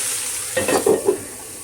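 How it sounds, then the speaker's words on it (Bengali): Food stirred in a hot frying pan in a home kitchen, a constant close sizzle broken by a short run of three or four quick scraping strokes from a utensil. "এটা নেড়ে চেড়ে ঢেকে দিয়ে"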